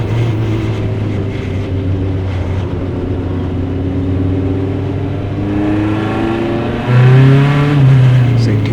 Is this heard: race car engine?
yes